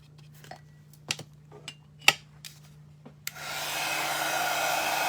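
Heat gun drying paint on a birdhouse, starting after a few light taps and rubbing noises and then running as a loud, steady airy roar through the remaining seconds.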